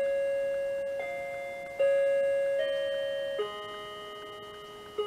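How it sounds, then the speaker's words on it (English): Wall clock in a quiet home, its tone ringing as sustained chime-like pitches that step up and down at irregular intervals over several seconds, fairly steady and close, with no talking. "We have a loud clock."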